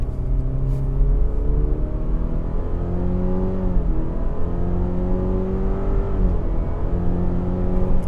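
A 2025 Subaru Forester Limited accelerates in sport mode, engine note climbing steadily through gears with brief dips at shifts, heard from inside the cabin as a continuous close drone.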